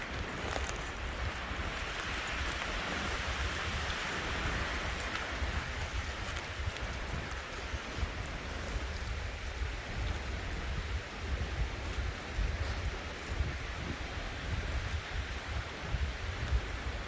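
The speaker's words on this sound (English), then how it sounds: "Yeah, I've never seen it this windy." A strong wind roars steadily through a forest, a continuous broad rushing that stays loud and unbroken from start to finish with no talking.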